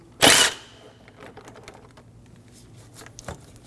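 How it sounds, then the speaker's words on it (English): A 10mm socket ratchet working an intake boot clamp on a 2008-2015 Scion xB 2.4L, one loud burst of clicking up front followed by faint, sparse ticks, close and with no talk. "Using a 10mm socket, loosen the clamp for the intake boot."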